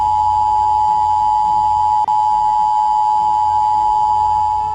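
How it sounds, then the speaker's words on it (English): A loud, steady electronic tone drones without pause, with one tiny click midway through. "anything on the TV will be interrupted with a very loud humming noise"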